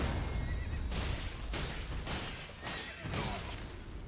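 A horse whinnies in a busy Elden Ring game mix, with loud rumbling and crashing sounds running continuously underneath.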